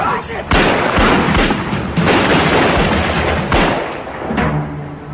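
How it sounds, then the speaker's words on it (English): Rapid bursts of gunfire from a bank robbery shootout crack out in several volleys, loud and close, with shots overlapping as if from more than one side. "There was an exchange of gunshots."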